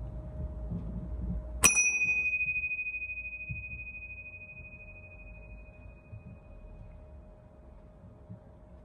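A single bell is struck once, a sharp bright strike followed by a clean ringing tone that decays slowly over several seconds against low background rumble in a quiet room.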